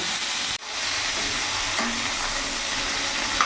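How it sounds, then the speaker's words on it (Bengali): Cauliflower florets frying in hot oil until browned give a dense, even sizzle and hiss close by, with one brief dip near the start and faint stirring, no talking. "ফুলকপিগুলো লাল লাল করে ভেজে তুলে নেব।"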